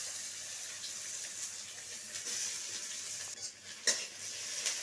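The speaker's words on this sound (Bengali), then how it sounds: "পেঁয়াজটা এবার লাল লাল করে ভেজে নেব।" Chopped onion fries in oil in a kadai with cumin and dried red chilli, a soft, continuous sizzle under occasional light stirring clinks and scrapes, faint and close, with no talking.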